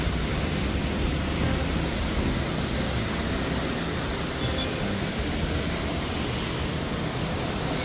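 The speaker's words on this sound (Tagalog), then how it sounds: "lakas na naman po ang ulan." Heavy rain pours down in a steady, loud, dense hiss that stays constant throughout, during a stretch of daily downpours.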